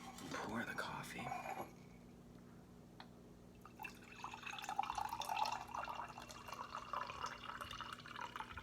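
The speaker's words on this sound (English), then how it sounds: "let me just pour the coffee" Freshly percolated coffee is poured into a cup after a brief clatter of dishes, a soft, close trickling stream running quietly for several seconds.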